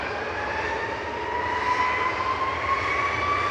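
A Lufthansa airliner at Manchester Airport, bound for Munich, roars past in a steady, loud jet drone with a rising whine threaded through it, continuous and fairly close, with no voices.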